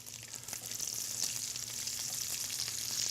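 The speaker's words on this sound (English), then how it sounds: "So I'm just going to add a little bit of onion" Chopped onion frying with pancetta in a pan, a continuous bright sizzle at moderate level with faint crackles.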